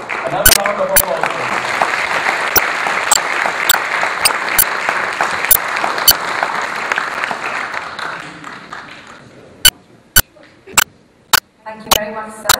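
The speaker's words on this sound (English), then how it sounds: "Another round of applause." Many hands clap at a Toastmasters gathering, a thick steady round of applause that fades after several seconds, leaving a few isolated loud claps near the end.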